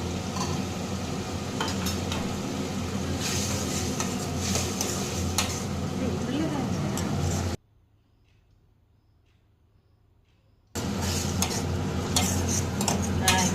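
Steady stirring and scraping of vegetable kurma curry in a frying pan with a sizzling background, broken by a few seconds of near silence before the cooking noise resumes.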